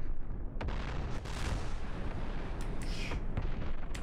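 Naval guns fire in a DCS World sea battle between an Arleigh Burke destroyer and the cruiser Moskva. A few sharp reports cut through a dense, continuous roar, with a brief hiss near the end.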